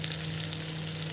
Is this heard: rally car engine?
no